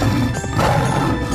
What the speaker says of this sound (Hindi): तभी रथ एक पेड़ से टकराया और उसका एक हिस्सा टूट गया